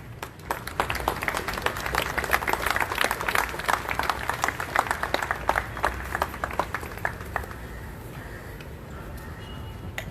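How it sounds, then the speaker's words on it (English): An audience claps together at a gathering, a dense, even patter of many hands that holds steady for several seconds and then thins toward the end, with a little crowd murmur underneath. "Give a big clap."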